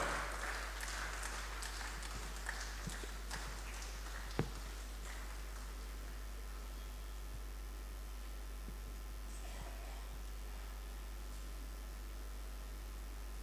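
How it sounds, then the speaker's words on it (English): Applause from the crowd at a church general assembly public meeting, a broad wash of clapping that is strongest in the first few seconds, then fades into a quieter hiss with scattered claps. "Please put a good round of applause for the excellent effort taken by Professor John Matthew and the team"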